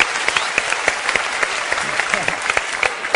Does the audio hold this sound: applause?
yes